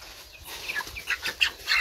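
A large poultry hen giving short, soft clucks and chirpy calls in quick succession, close but faint against a quiet rural background.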